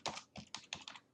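Quick keystrokes on a computer keyboard as a button label is typed into a web page editor, five or six crisp clicks in an uneven rhythm, close and clear with no talking.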